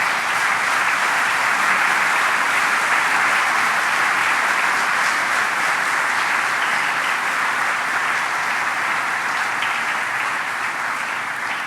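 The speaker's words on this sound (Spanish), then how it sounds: "Dale un fuerte aplauso al Señor," A church congregation gives the Lord loud, sustained applause, dense and even clapping from many hands that holds steady at close range without a break.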